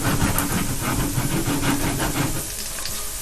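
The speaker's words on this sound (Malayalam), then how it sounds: "നമ്മുടെ ഇറച്ചി ഇപ്പൊ എണ്ണയിലിട്ടിരുന്ന് നല്ല രീതിക്ക് വറുത്തോണ്ടിരിക്കുകയാണ്" Marinated beef slices fry in hot oil in a pan, giving a loud, steady, close sizzle and hiss that eases slightly near the end, with no talking.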